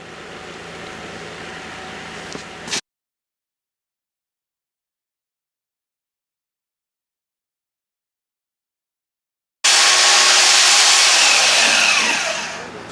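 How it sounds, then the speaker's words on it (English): A saw with a Harbor Freight blade cuts through an exhaust downpipe on an LS-swapped Fox-body Mustang, a loud harsh grinding whine that stops abruptly and then resumes before tapering off. "it actually didn't cut too bad, and that's even the Harbor Freight blade"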